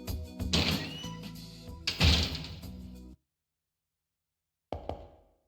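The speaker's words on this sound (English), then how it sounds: "I take a deep breath and knock on the door again." In the video game Fate/Extra CCC, a door is knocked on in two heavy, reverberant bursts, then silence, then a fainter final knock with a short decaying tail.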